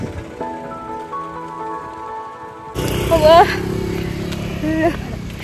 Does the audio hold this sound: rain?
yes